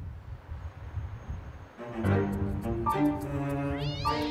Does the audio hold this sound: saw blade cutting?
no